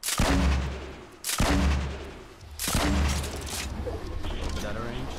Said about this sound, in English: I think I'm going to shoot rockets at these guys.